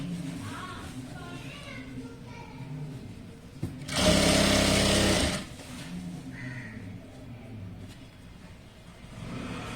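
A sewing machine stitches the hem of a puff sleeve frock in one loud, steady whirring burst of about a second, set between stretches of quieter background noise.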